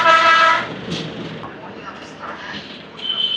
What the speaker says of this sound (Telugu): కొత్త వలస రైల్వే స్టేషన్లో గూడ్స్ ట్రైన్స్ అయితే ఉన్నాయి